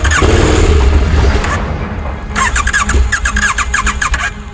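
Motorcycle engine running close by, loaded with gear, starting loud with a rough idle that drops and then returns with sharp squeaky ticking bursts over the engine hum.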